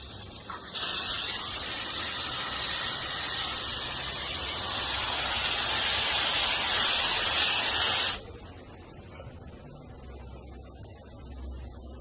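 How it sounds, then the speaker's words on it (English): A pressure-on-demand steamer blows a loud, steady hiss of steam close up for about seven seconds while heating paint protection film, then cuts off abruptly, leaving faint background noise. "I'm going to use my pressure on demand steamer and heat this up"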